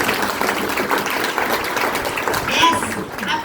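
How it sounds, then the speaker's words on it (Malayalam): An audience at a company meeting in Tirur bursts into clapping, a busy, mid-loud crackle of many hands with some murmuring voices mixed in, swelling slightly near the end. "കൈയടിച്ച്."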